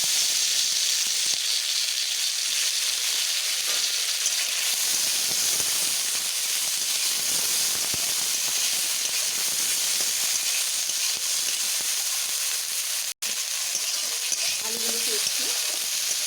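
Potatoes fry in hot oil with garlic and dried red chillies, making a steady, loud, continuous sizzle and hiss throughout, with one brief dropout near the end.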